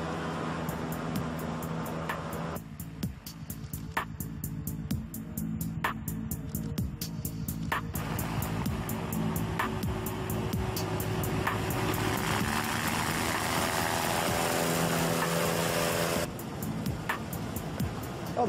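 Hovercraft with a big motor on the back riding across ice, heard from inside as a steady, loud engine and fan drone with a constant rumble throughout.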